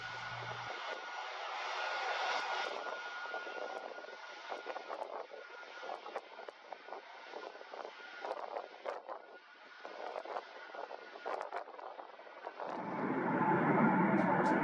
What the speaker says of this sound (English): Before it can pull up to the gate, the 747 makes its second U-turn of the day.